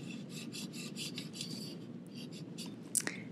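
A greased trombone slide joint is worked back and forth, giving a series of soft, rhythmic rasping rubs close up, followed by a sharper scrape near the end.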